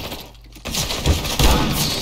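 Gunfire in a video game comes as a burst of shots, with several sharp cracks and thuds layered over a dense, noisy game background. The shots come through fairly loudly after a brief quieter moment.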